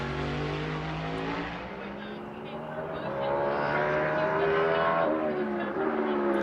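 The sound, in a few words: race car downshifting into turn 1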